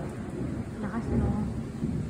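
Thunder rumbles during a heavy rainstorm after a spell of very hot weather, a low rolling boom over steady rain noise, heard from indoors at moderate distance.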